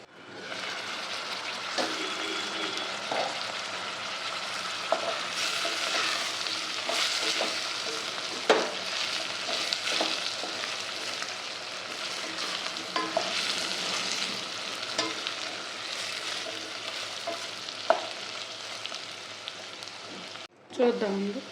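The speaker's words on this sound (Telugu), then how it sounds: "ఆలు వేగుతున్నాయి, కొంచెం పచ్చివాసన పోవాలి." Potatoes frying and sizzling in a pan for aloo rice, a steady hiss with occasional stirring scrapes and clinks, close and continuous before a sharp clatter near the end.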